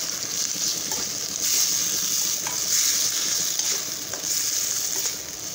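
Hadsan wild vegetables sizzle steadily in a pan while being stirred, a continuous bright frying hiss broken by soft scraping strokes at intervals, close and without talk.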